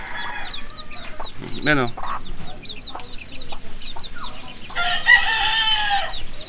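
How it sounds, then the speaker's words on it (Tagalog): Wild chickens cluck in quick repeated bursts at close range, with a rooster's crow rising sharply partway through and busy chirping around it; a person speaks briefly. "dito may wild wild chicken naman ulit"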